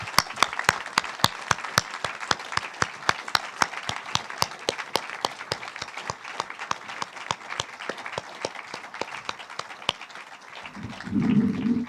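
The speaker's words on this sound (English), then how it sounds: "I'd ask you to help me applaud our guests for their work" Sparse, evenly spaced sharp claps ring out at a talk event honouring guests, a small number of hands beating a steady slow rhythm for about ten seconds before a low murmur rises at the end.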